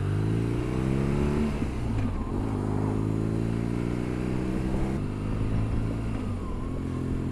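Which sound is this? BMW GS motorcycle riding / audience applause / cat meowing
BMW GS motorcycle riding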